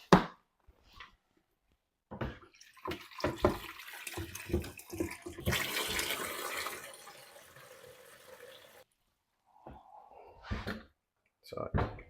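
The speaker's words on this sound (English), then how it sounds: "Water needs to be filled up." Tap water runs into the water tank of a Glider 6-in-1 robot vacuum/mop, a steady splashing fill in the middle, framed by clunks and handling knocks and brief talking.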